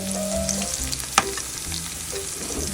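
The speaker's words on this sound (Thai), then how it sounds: "ก็มาทำกระเทียมเจียวค่ะ" Chopped garlic frying in oil for crispy fried garlic, a continuous close sizzle with faint stirring scrapes and one sharp clink midway.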